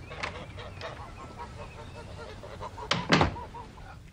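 Several geese honk repeatedly at middle distance, a rhythmic string of nasal calls, followed by a louder thump or slam and a few more sounds near the end.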